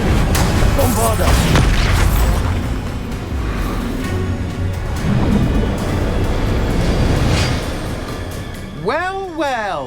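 A Bombarda spell explodes in Hogwarts Legacy combat with heavy, rumbling booms and crashing debris. A voice speaks briefly at the end.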